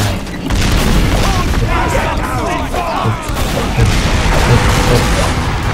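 Demoman grenade explosions go off in the video game Team Fortress 2, with repeated booms in a loud, busy match mix and game voices in the background.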